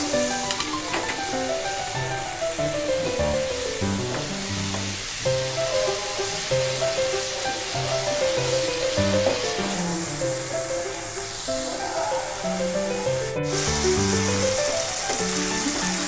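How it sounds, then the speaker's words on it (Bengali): Masala paste sizzles steadily in hot oil with cloves and cardamom while it cooks down for a spicy chicken curry, a soft continuous hiss under prominent background music. "সুন্দর মশলাটা কষিয়ে নিলাম, তেল উপরে উঠে আসছে"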